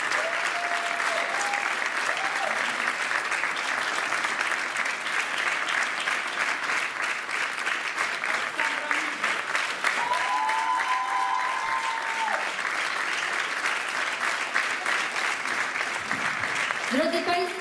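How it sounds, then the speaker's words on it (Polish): An audience at a Christmas charity concert applauds a singer with dense, sustained clapping that holds steady throughout, while a voice speaks over it now and then. "Wielkie brawa dla Oli!"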